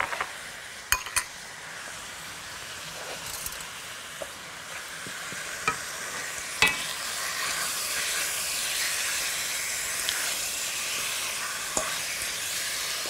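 Liver frying in ghee and being stirred gently: a steady, close sizzle with occasional light clicks from the utensil.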